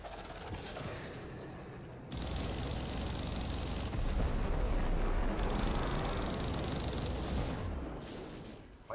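A bombard cannon in the pirate game Atlas fires, heavy booms that jump the level up at a few points and roll into a dense, continuous rumble of battle noise.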